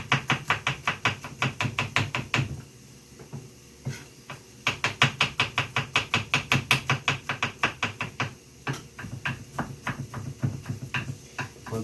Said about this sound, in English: Gonna chop it. We ain't gonna really mince it. We're just gonna chop it.